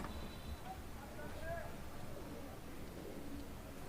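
Pigeons coo at a pigeon seller's stall, soft low cooing calls and a few brief chirps scattered over a steady noisy background, with people speaking nearby.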